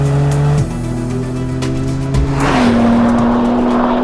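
BMW M3 CS with four-wheel drive driving fast, its engine droning loud and close with steady harmonic tones that shift pitch through gear changes, rising and settling as it pulls hard with no talk over it.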